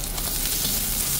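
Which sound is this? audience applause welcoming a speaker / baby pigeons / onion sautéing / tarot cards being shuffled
onion sautéing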